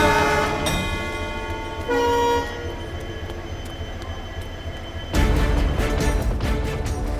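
Train number 10956 bound for Mumbai, a loud nearby rumble of wheels and running gear with sustained horn-like tones that swell partway through and rise again near the end, with no talk.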